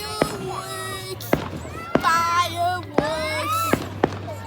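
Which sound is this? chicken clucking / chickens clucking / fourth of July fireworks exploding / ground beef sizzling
fourth of July fireworks exploding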